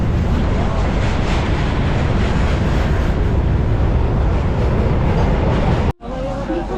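Indian Railways train approaching Sitamarhi Junction: a loud, steady rolling rumble and rattle heard from on board, which drops off abruptly near the end.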